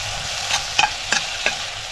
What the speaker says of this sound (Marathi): पेस्ट पण चांगली परतवून घेऊया